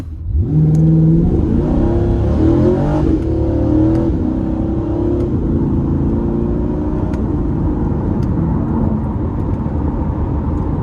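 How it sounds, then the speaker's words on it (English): A 2027 Chevrolet Corvette Stingray Coupe 1LT engine revs hard and launches with launch control, pitch rising steeply through the gears, then settles into a steady loud drone as the car cruises. "I'm just gonna test out the launch control"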